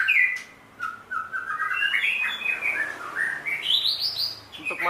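A white-rumped shama (murai batu) sings close and clear, with a continuous run of sweeping, rising and falling whistled phrases and trills that ends in a high flourish.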